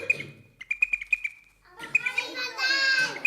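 Sparrow chirping, a run of short bright tweets followed by a busier burst of rapid chirps and calls, close and clear, with a voice briefly heard.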